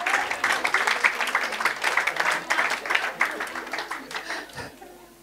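A congregation claps for the Lord during a bilingual English-German church sermon, a dense patter of hands close by with some chuckling, tapering off toward the end.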